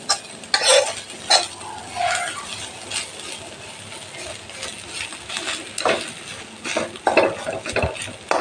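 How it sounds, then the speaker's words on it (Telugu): Fish roe (chapala jana) frying in a pan, a steady close sizzle broken by scraping stirs and a few metallic clinks of the spoon against the pan. "ఇలా బాగా వేగనివ్వాలి."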